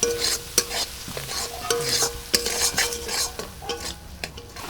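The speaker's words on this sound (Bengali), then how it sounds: "মশলাটা ভালো করে কষিয়ে নেব" Spice paste of chilli powder, turmeric, coriander and cumin frying in a kadai for pea kachori filling, with steady sizzling and repeated scraping stirs of a spoon against the pan, close and clear with no talk.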